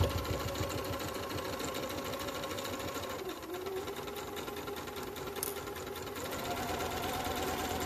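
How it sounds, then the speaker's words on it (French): A sewing machine stitches fabric for a snood along the seam allowance, its steady rapid whir running close and continuous through the whole stretch with only slight shifts in pace. "On coud jusqu'à notre petit repère."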